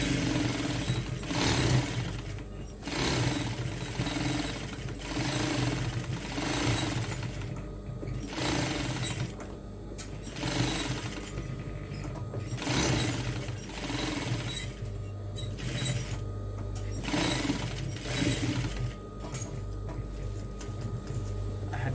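A sewing machine stitching fabric during tailoring runs in repeated bursts of rapid mechanical clatter, stopping and restarting every couple of seconds, fairly close and with no talk.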